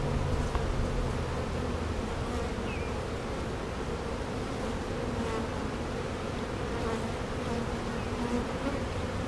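Honeybees buzz steadily at an open beehive during a frame inspection, a dense continuous drone close by with no talking over it.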